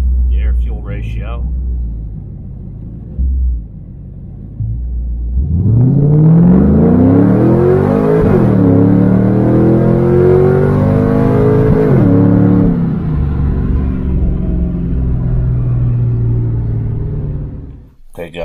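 An LS1 V8 in a car on a fuel-tuning run rumbles at idle, then revs up hard through rising gears with loud, climbing engine roar, holds briefly and winds back down to a fading rumble.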